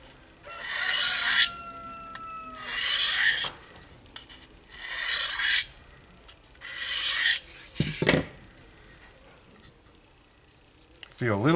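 A knife blade is rubbed against a Lansky diamond sharpening stone at a steep angle to remove the burr. Four distinct raspy back-and-forth strokes come up close with pauses between them, and a voice is briefly audible.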